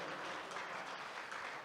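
An audience applauds at a poetry recital in Dubai, a dense, even burst of many hands clapping that holds steady for under two seconds.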